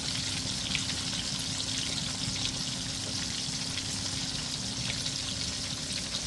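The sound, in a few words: beef schnitzel frying in oil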